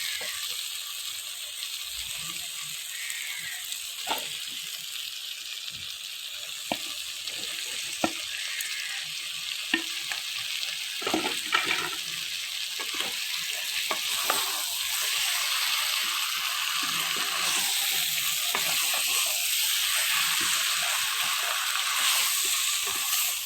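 Chicken pieces sizzle and crackle steadily after going into a pan of fried spice masala, with scattered stirring clicks and scrapes over a continuous frying hiss for chilli chicken.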